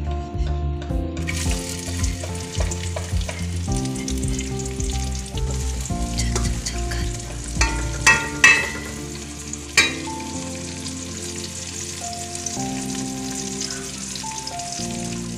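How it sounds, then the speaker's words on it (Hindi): Onions sizzle and fry in ghee in a pan, a loud continuous crackling hiss with occasional stirring scrapes and clatters, with no talking over it. "अभी हम इसमें प्याज डालेंगे।"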